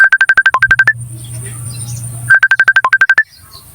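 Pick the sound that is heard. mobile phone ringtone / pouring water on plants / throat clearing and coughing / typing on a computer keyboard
mobile phone ringtone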